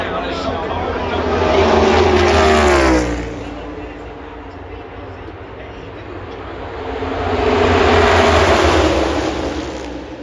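NASCAR Cup race cars at the 2025 Jack Link's 500 at Talladega roar past in two loud swelling passes, engines rising and fading with Doppler sweeps, under a commentator's voice.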